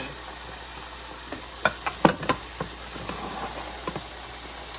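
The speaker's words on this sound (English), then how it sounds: "Got about 4 more pieces of chicken to get out of the hot frying pan" Fried chicken sizzling in a hot frying pan, a soft steady crackle under several louder clattering stirs and pieces being moved, close and fairly quiet, with no talking.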